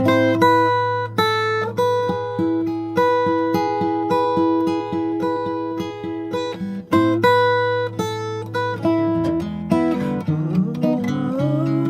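Close acoustic guitar plays the end of the chorus of a song leading into the bridge, a steady strummed pattern with a brief break before shifting to a new, busier set of chords at the close.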